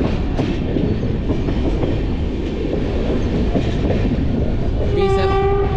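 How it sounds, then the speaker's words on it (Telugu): The Secunderabad–Guntur Intercity Express, hauled by locomotive 37441, rolls into a station with a steady loud rumble and clatter of wheels, then a sharp horn blast near the end. "వేరే ఒక ట్రైన్ అయితే వస్తుంది స్టేషన్లోకి"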